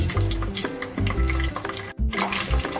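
Whole spices, fennel, bay leaf, cinnamon and shah jeera, crackle and sizzle steadily in hot oil for chicken biryani, with a brief stir or clatter midway and a moment of near silence before the frying resumes.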